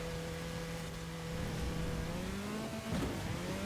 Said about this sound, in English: The exhaust has a very unique tone to it.